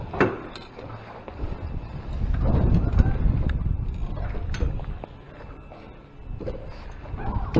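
Gusty wind on a cold day buffeting the microphone while fishing, rising and falling in strong low rumbles with some splashing and knocking.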